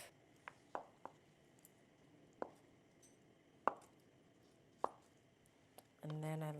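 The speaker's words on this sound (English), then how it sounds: "Now with your tofu, you're going to want to cut them into bite-sized pieces." Knife slicing tofu into bite-sized pieces in a home kitchen, several separate soft chops striking the board at uneven intervals, close and quiet, ending as a steady electronic beep starts up.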